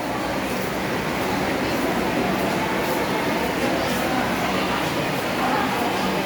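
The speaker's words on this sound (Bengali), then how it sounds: "মেট্রো এসে গেছে" A metro train pulls into a busy station, giving a continuous loud rumble and roar that fills the whole stretch, with crowd noise and voices mixed in.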